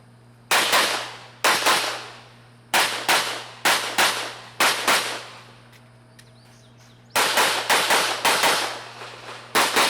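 Gunshots at a USPSA practical shooting match at Pitt County Wildlife Club, fired in several loud separate bursts of sharp cracks with short pauses between strings, ringing out over a steady low hum.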